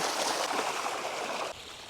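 Water pours and splashes steadily for washing freshly pulled carrots, a brief, close, continuous hiss that drops slightly at the end.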